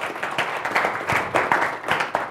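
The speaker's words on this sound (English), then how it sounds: "Please give Guy a round of applause" A brief, thin round of clapping from a small audience at a professional training session, a few scattered pairs of hands in an irregular rhythm.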